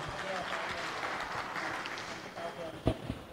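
An audience at an Indonesian exam-prep grand final applauding the participants, with dense, steady clapping throughout and a few louder claps near the end.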